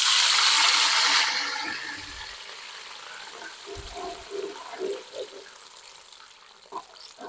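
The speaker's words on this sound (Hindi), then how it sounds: "अब इसमें हम थोड़ा सा पानी शामिल करेंगे।" Water poured into a pan of browned onions for pulao, a loud rushing hiss that fades into softer sizzling and bubbling with occasional pops, close up.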